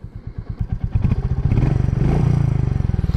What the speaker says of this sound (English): This engine's got a weird click to it.